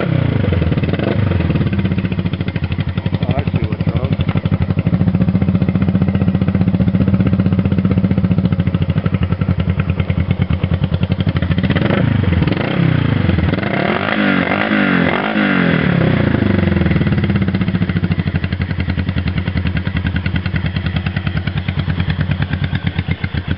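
A 1971 Honda CB350 twin motorcycle, higher-compression model, runs close by after a kick start, with a steady loud idle, a rough clattering stretch and a few blips of revving, no talk.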